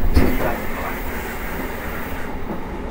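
A JR Hokkaido 733 series 3000 commuter train on the rapid Airport service from Sapporo to New Chitose Airport runs steadily, with a continuous low rumble and wheel noise heard from inside the car.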